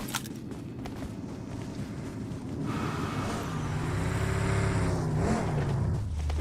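A vehicle engine in the game Free Fire starts up and rises into a steady revving drone, close and moderately loud, after a few seconds of footsteps and ambient game noise.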